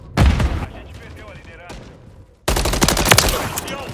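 Gunfire from the Call of Duty: Modern Warfare 3 beta on PS5, Rust map: loud bursts of automatic fire and shots, a dense stretch at the start and sustained heavy firing in the second half, with game voice callouts mixed in.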